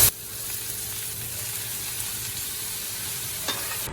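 Vegetables and apple fry in hot oil with spices, giving a steady, close sizzling hiss throughout, with a sharp knock near the start and a brief clink near the end.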